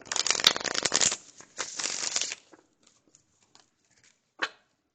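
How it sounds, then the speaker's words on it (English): Brisk riffling bursts of playing cards being shuffled, two rapid flurries close up, followed by quieter taps and a single sharp snap near the end. "Let me split it so I could at least shuffle right."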